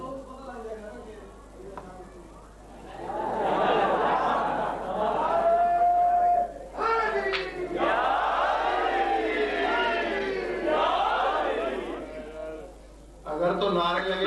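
A large crowd chants slogans at a religious gathering, with loud, sustained rhythmic voices rising and falling in waves, briefly interrupted, then resuming.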